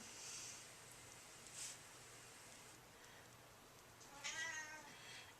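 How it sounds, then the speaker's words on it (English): A cat meows faintly in the background, a couple of short calls with a longer wavering one near the end, over quiet room noise. "you hear my cat in the background who's found out I was in here without her"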